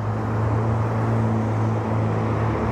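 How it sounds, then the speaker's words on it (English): Road traffic in Liverpool near a university building, heard as a steady, loud low rumble with a droning engine hum and no distinct individual vehicles. "You'll have to forgive the traffic noise"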